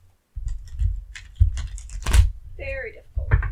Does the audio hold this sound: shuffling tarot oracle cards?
yes